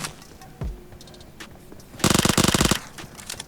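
Automatic gunfire in the PUBG Mobile battle game: a quiet stretch with a single thump early on, then a loud rapid burst of shots for under a second, followed by fainter game sounds.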